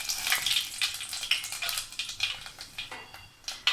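Whole spices (cinnamon, cloves, cardamom, fennel) sizzle and crackle steadily in hot groundnut oil for mutton kulambu, a close, continuous frying hiss with small popping bursts throughout.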